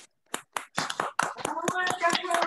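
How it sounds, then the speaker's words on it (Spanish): Scattered hand claps from an online audience with open microphones, several separate claps building into a brief, moderately loud burst of applause mixed with voices. "le pido de favor a todos los presentes si abren sus micrófonos para poderle brindar un aplauso a Román."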